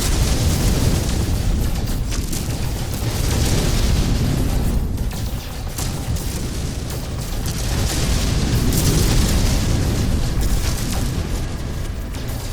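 A gun blasts asteroids in the video game No Man's Sky, a dense, continuous roar of rumbling bursts that swells and dips without pause.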